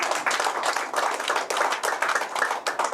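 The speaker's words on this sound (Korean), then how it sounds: "이렇게 박수를 쳐서 조용히 보내주면 됩니다" A steady run of hand clapping, a crowd applauding at a public talk, with dense continuous claps at even loudness and no voices over it.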